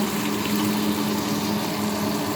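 A kitchen exhaust fan runs steadily with a constant whirring hum and faint background noise, switched on while bisugo dried fish is being cooked.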